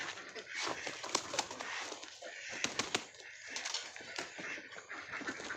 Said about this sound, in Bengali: এদিকে সব পায়রাগুলো খাবার খাচ্ছে।